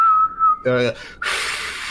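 A person vocally imitates a hollow metal whistle, like one for calling a dog: a steady whistled tone, then a short harmonic burst, followed by breathy hissing air.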